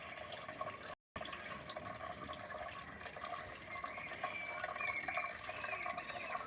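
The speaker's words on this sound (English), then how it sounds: "There's my wee water features." Small garden water features trickling and splashing steadily outdoors, a continuous close babble of running water with a momentary dropout near the start.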